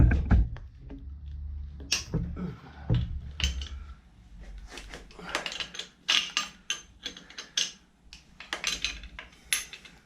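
A wrench works a bolt on the automatic gearbox of a Citroën C8 V6 in a workshop: irregular metallic clicks, ratcheting and clinks of tools, close up, with occasional faint noises from the person working.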